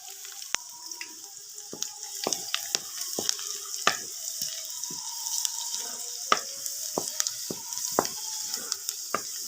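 Garlic frying in hot mustard oil for a tadka, a bright close sizzle with sharp scattered crackles and pops from the oil, and no voices.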